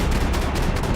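Rapid burst of gunfire in Max Payne 3, several close, loud shots packed into about a second of continuous game combat, with no speech over it.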